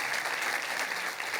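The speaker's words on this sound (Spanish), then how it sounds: "¿Por qué no le damos un aplauso a Dios?" Church congregation clapping during a Spanish-language sermon, a steady wash of many hands applauding at moderate volume.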